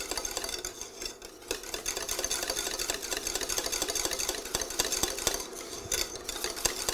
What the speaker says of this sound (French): une petite ébullition pendant 1 minute.